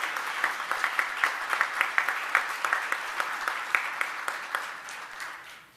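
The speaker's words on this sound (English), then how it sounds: "let's give them a round of applause for doing that" An audience at a graduation ceremony applauds in a steady burst of clapping that runs for several seconds and then tapers off at the end. No one speaks over it.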